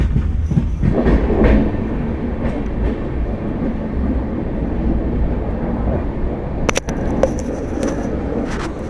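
The Hyderabad–Mumbai Hussain Sagar Express rolls steadily along the tracks near Kalyan with a continuous rumble and rhythmic clatter, loud and close, with sharper metallic clacks near the end.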